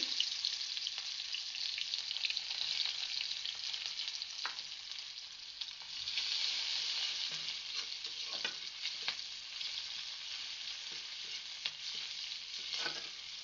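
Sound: chopped onion frying in oil in a wok

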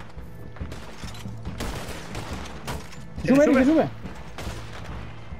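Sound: turret machine gun firing in Red Dead Redemption 2 video game

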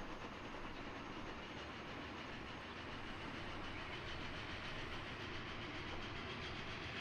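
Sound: train ride in Transport Fever 2 video game

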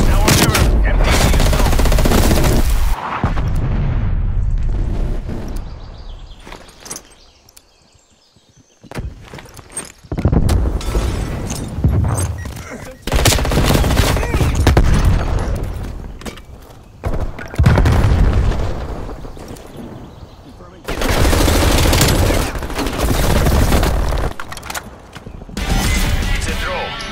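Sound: artillery strike and gunfire in video game Call of Duty Black Ops Cold War

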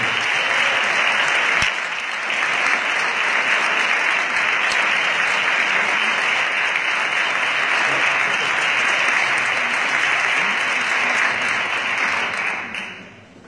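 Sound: audience applause for a music association

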